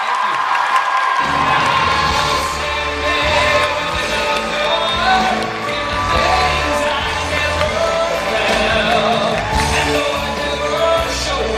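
A convention panel audience at C2E2 in Chicago cheers and screams loudly and continuously, a dense crowd roar with whoops and shouts.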